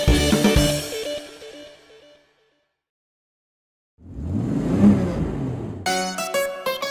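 A cartoon garbage truck named Frank drives along with a revving engine that swells in after a short silence, rumbling loudly before music comes in.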